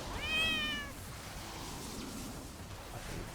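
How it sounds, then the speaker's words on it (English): A cat meows in World of Warcraft: Dragonflight, a single short high meow near the start, then low, quiet game ambience. "Kitty noises."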